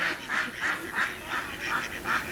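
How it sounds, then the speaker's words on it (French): Geese honk near a boat in a quick, regular series of about seven nasal calls, close and fairly loud over faint background noise. "C'est pas des canards ça, c'est des oies."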